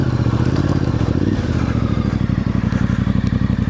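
A Voge DS625X adventure motorcycle rides off-road, its engine running loud and steady up close with a clear gear change partway through, then pulling on with a rhythmic, slightly rough drone.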